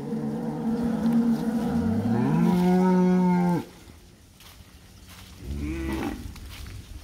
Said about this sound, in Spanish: jóvenes y terneros y terneras, vacas, toros